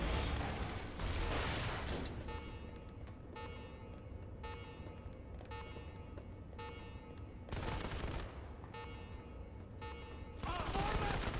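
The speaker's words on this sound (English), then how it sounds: "We're shooting the power cells." Rapid gunfire from Modern Combat 5 aimed at power cells: bursts of dense shooting alternate with mechanical clanks and hums, loud and close, with brief pauses between volleys.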